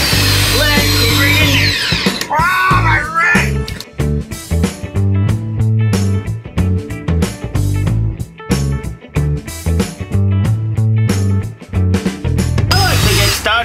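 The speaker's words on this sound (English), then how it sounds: "Come in on here and drill yourself a little hole" A power drill whirs close by in repeated short bursts, drilling a hole into a boat dock, starting and stopping with brief pauses between runs.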